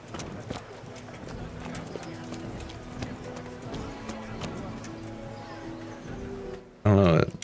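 Horse hooves clip-clopping at a steady rhythm in the medieval game Kingdom Come: Deliverance, with game music underneath and a brief loud burst of another sound at the very end.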